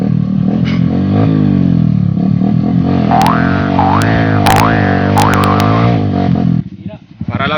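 An enduro trail motorcycle, either a Honda XR 150L or a CRF450, is revved for a test, making a loud, close, continuous engine drone with several rising rev swells before it cuts off near the end.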